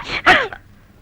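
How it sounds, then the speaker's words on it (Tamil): A single sharp sneeze triggered by chili pepper fumes bursts out close and loud, then fades into quiet. "ஏன்டா மோனே ஒரு தும்மல் ஓங்கிட்ட இருந்து வருது"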